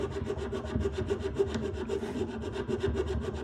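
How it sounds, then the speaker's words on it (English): A coarse flat wax file rasps rapidly against a wax stacking ring, about six quick even strokes per second in a close, steady rhythm. "all I'm doing is I'm filing down to the line"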